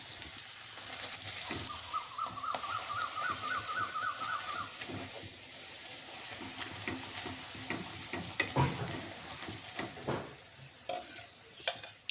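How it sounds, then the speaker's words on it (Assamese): Ghee sizzling and frying under a cashew roti in a pan, a soft continuous crackle with scattered scraping stir sounds and light clicks, heard alone without speech. "মই এতিয়া ঘি এড কৰি দিছোঁ আৰু ঘিখিনি মই এই ৰুটিখনৰ ওপৰত ভালকৈ মিক্স কৰি লৈছোঁ"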